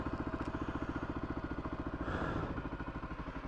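A KLR 250 motorcycle engine warming up at idle, a close, steady, rapid single-cylinder thump with slight clatter and a brief swell midway.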